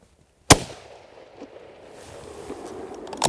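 A single sharp, loud gunshot from a short Ruger carbine rifle cracks near the start, then fades into a low outdoor rumble that slowly builds toward the end.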